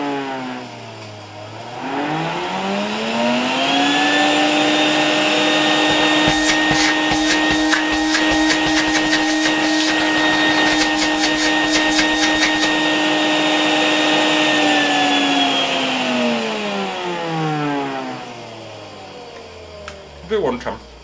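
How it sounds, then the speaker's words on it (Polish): A vacuum cleaner run through a 1992 Ukrainian RS-6 voltage regulator spools up from silence into a loud, steady motor whine with a rising pitch, holds for about fifteen seconds, then winds down as power drops. "No i odkurzacz zaczyna się odzywać."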